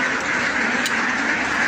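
Farm ducks quack loudly and continuously at close range as they are let out of their coops, a dense unbroken chorus with no talking.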